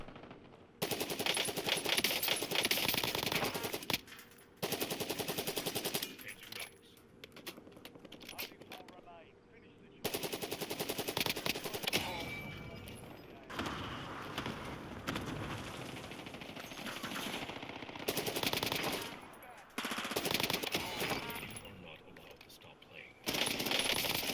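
PPSh submachine gun firing in Call of Duty Warzone, loud sustained automatic bursts separated by short pauses, with someone talking over the gunfire.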